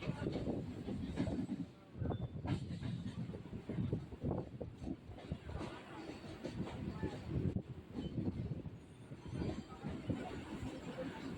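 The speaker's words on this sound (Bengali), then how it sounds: "এখন ট্রেন ধীরে ধীরে দুর্গানগর স্টেশন ছেড়ে বেরিয়ে যাচ্ছে" A commuter train on the Sealdah-Bangaon line pulls slowly out of Durganagar station, giving a steady, loud rumble and rattle of rolling carriages that holds throughout, with a brief dip near the start.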